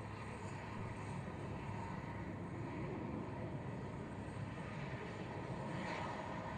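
A military aircraft takes off at the Waddington airshow: a steady, broad engine roar holds at moderate level throughout, without clear peaks, like a jet heard from some distance.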